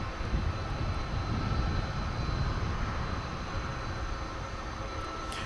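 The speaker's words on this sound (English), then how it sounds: "As far as taking off goes, we've got a big Dreamliner headed to Phoenix, American Flight" An American Airlines Boeing 787 Dreamliner bound for Phoenix takes off at DFW Airport, its engines a broad, steady roar with deep low rumble held at an even level throughout, no voices over it.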